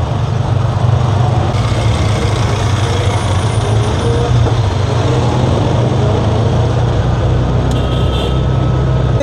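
Busy road traffic behind Legazpi Cathedral in Albay on a Sunday, a loud, continuous roar of many vehicles passing close by, with steady low engine rumble throughout and no voices.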